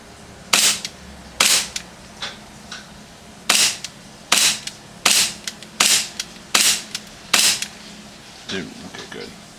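An airsoft gun fires about ten sharp, loud shots in an uneven series, each snapping crack followed by a brief mechanical rattle, with quiet between shots.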